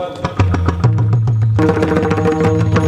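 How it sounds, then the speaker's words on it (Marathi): A pakhawaj drum played at a temple kirtan, with steady, close strokes whose deep resonant bass tones ring under sustained melodic accompaniment, the rhythm thickening partway through. "हा पखवाज वाजवा, पखवाज"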